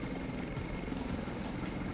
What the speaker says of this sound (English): Oh, there's the helicopter too.